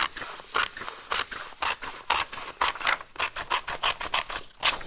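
A sheet is cut to size with scissors, giving a fast run of crisp, rhythmic snips close by, each stroke a short rasping crunch repeating steadily with no talk.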